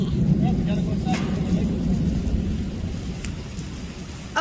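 Steady rain pours with a deep rumble of thunder rolling beneath it, close and fairly loud throughout, with a few faint higher sounds scattered over the downpour.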